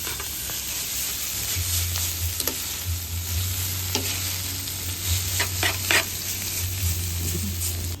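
Pancit canton noodles are stir-fried in a hot pan, a steady crackling sizzle with scattered scraping taps of the utensil and a low hum running underneath, close and continuous.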